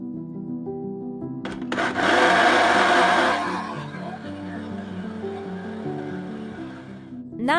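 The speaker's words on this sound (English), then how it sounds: "Blend until smooth or leave it slightly chunky if you prefer more texture." Blender whirring through tomato chutney with lemon juice, starting up with a surge, roaring loudly for about two seconds, then settling into a steadier grinding drone before winding down.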